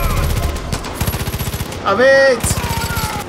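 Rapid automatic gunfire in the video game Far Cry 5, loud bursts of evenly spaced shots separated by a short gap, with someone shouting briefly over the shooting.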